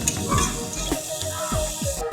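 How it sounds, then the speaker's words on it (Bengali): Chopped onion and garlic sizzle in a pan for fried rice, giving a close, steady crackling hiss with occasional scraping strokes of a stirring spoon. "এবারে আমি পেঁয়াজ কুচিগুলো এর মধ্যে দিয়ে দেবো"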